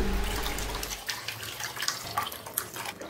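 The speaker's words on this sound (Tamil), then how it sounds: "கரைச்சி வச்சுருக்கிற புளி தண்ணியை அதில் சேர்த்துக்கோங்க" Tamarind water pours steadily into a pan for betel leaf rasam with a splashing, trickling wash, then settles into lighter drips and small splashes.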